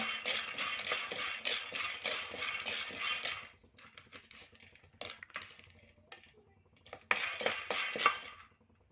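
Sesame seeds are dry-heated and stirred in a kadai for homemade ellu bella, giving a dense, grainy rattle and scrape for several seconds, then brief clinking stirs and a final burst of rustling seeds against the pan. No one speaks.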